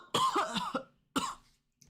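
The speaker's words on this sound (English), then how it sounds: "Coughing like mad crazy." A person with a throat problem coughs close up in a harsh, rough fit of several rapid coughs, then after a brief pause gives one more cough followed by a faint throat sound.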